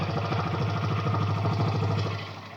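A Hero Xtreme 125R motorcycle engine idles steadily after a self-start, a close, even low-pitched thrum with rapid regular pulsing that fades slightly at the end.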